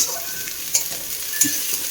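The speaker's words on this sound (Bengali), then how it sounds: "আর পেঁয়াজটা একটু ভাজা হয়ে গেলে" Onions sizzle steadily in a hot pan, with a couple of sharp scraping stirs from a utensil; no voices.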